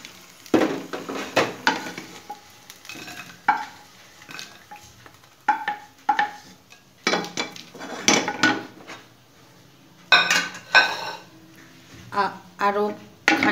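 Fried garlic and dried chillies are scraped out of a frying pan onto a plate. Spatula scrapes and metallic clinks come in irregular bursts separated by short pauses.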